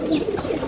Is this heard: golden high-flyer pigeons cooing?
yes